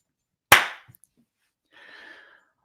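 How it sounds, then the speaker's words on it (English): A single sharp hand clap cracks out loud and close, then a brief decay and quiet follow before a faint soft rustle, with no one speaking. "I'm going to clap. That's going to cause an audio spike"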